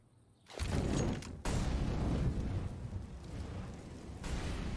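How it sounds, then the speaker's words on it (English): An incendiary grenade bursts into flame in Counter-Strike on the Inferno map: a sudden loud whooshing roar that holds steady as a dense crackling fire sound, briefly dipping and resuming, with no voices. "Perfectly timed incendiary from Simple"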